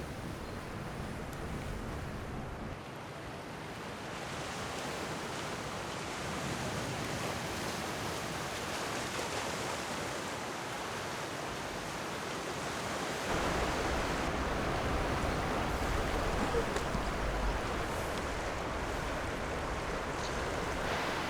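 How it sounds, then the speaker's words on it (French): A continuous, dense roar of rushing water with wind noise, swelling louder partway through as the tidal bore surges into the bay at Mont-Saint-Michel. "vous entendez le grondement, c'est le mascaret qui arrive."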